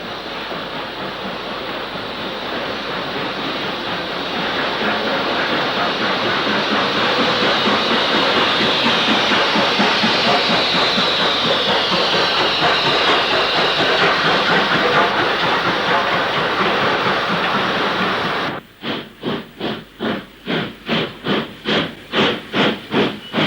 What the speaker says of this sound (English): Black 5 45096 heads into Preston on the East Lancs line from Blackburn.